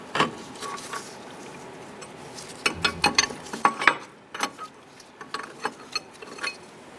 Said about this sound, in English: I want to go ahead and remove our bolts from the shock unit to our knuckle.